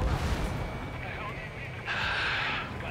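A missile launching from a fighter jet in Ace Combat 7: Skies Unknown, a loud whooshing roar that swells and rushes away over steady engine rumble, with radio voices talking.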